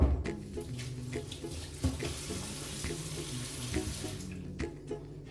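Marjoram rinsed under a running kitchen tap, a steady close stream of water splashing into a sink with small shifting splashes as the herbs are handled, no talk.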